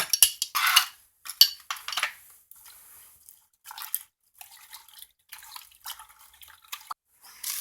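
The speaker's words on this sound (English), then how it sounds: "We'll just take our belt and we'll just dip it in there." Water splashes and drips in short bursts as a Subaru Outback seat belt is dipped and moved about in a small tub of water and detergent, close up and quiet, with no speech.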